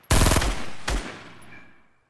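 SCAR assault rifle fire in Fortnite: a sharp, loud burst of rapid shots, then a second single crack about a second later, each followed by a decaying echo tail.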